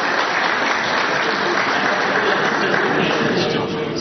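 Loud, dense applause from a crowd at a Polish sports club celebration, honoring a former volleyball coach; continuous clapping fills the whole stretch without pause, no talk heard over it.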